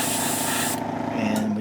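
Spray paint hisses from an aerosol can onto a TOS Galactica scale model in a long steady burst, then stops as a softer rubbing, humming noise continues, close up.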